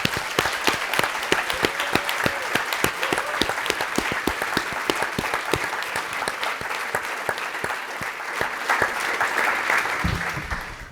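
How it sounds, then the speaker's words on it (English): A conference audience at a low-carb health event applauds, dense clapping from many hands sustained at an even level throughout, with a brief murmur near the end. "that applause was for them and for Dr. Sarah Holberg."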